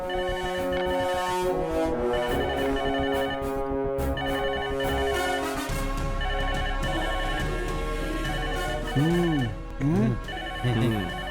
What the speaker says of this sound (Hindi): फोन की आवाज सुनाई दे रही है?